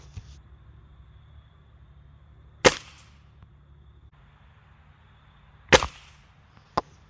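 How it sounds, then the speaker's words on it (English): A Ruger Air Hawk Elite II air rifle fires in a backyard, two sharp, loud cracks a few seconds apart with a smaller snap after, over quiet outdoor background. "So we're going to go ahead, 5 shots at that target."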